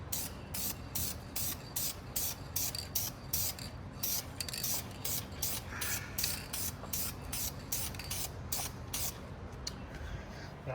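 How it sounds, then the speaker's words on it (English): Aerosol clear coat hissing in short repeated bursts onto a Dodge Durango quarter panel during rust repair, about a dozen close spray pulses in a steady rhythm, each with a faint rattle. "third and last little bit of clear coat"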